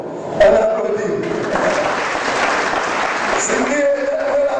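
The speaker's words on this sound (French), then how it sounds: "On applaudit." A French-speaking gathering broadcast on Antilles radio breaks into applause, a loud, sustained wash of clapping from a crowd for several seconds, with voices and tonal sounds mixed in over it.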